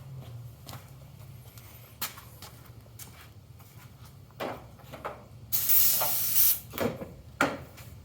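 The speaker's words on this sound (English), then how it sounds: "I'm gonna just give it a little bit of brake clean" Brake cleaner sprayed onto the engine of a barn-find Ford Bronco, a loud aerosol hiss lasting about a second among scattered clunks and knocks in a quiet space.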